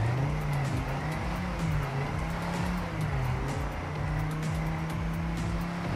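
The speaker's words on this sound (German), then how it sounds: "Dass man jetzt Motorsound hat." In the Trackmania video game, a race car engine drones steadily in the foreground, its pitch rising and falling slightly as the car drives. No one speaks.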